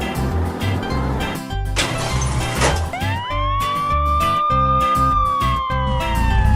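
A black police car siren from a children's cartoon rises and holds as a long, steady wail over the second half, loud and up front, after busy cartoon vehicle and engine sounds with a burst of noise.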